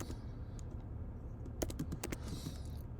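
Keys on a computer keyboard click away softly in an uneven patter, with a quick burst of taps in the second half over a low background hum, and no one speaks.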